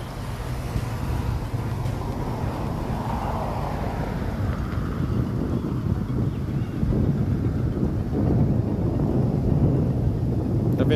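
Strong wind roars steadily across the microphone at Beto Carrero theme park in Penha, Santa Catarina, a loud low rumble with gusty buffeting and no voices.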